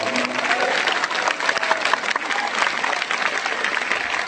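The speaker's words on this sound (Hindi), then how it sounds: "जोरदार ताली बजा करके" Loud, sustained applause from a large crowd at a religious darbar gathering, dense clapping continuing steadily throughout with a faint hint of voices mixed in.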